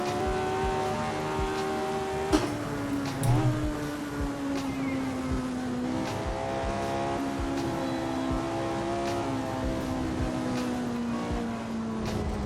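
A 1960s Formula One race car in a video game, its engine whining steadily at high revs on a street circuit through houses, pitch dipping sharply at one point before climbing and slowly sagging again, with no talk.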